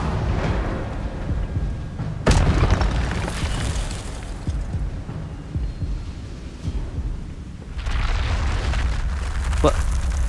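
An Incendio fire spell in the Hogwarts Legacy video game erupts with a sharp burst followed by a deep, rumbling roar of flame that swells again near the end, while a voice speaks over the game sounds.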